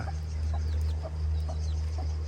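A Thai native domestic chicken clucks softly in a regular series of short calls over a steady low hum, sheltering from rain in a garden.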